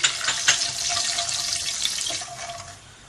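Cumin and mustard seeds frying in hot oil in a pan, a steady close hiss and sizzle with scattered pops and crackles that eases slightly toward the end.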